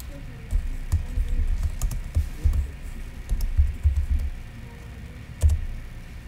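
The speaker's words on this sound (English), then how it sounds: "I'll type it in right here, Scoop." Someone types on a computer keyboard during a live chat stream, with bursts of close, uneven key taps and soft thumps and brief pauses between them.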